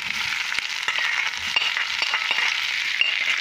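Chopped onion frying in oil in a pan, a steady bright sizzle with faint scattered clicks of stirring, close and continuous, with no talk over it.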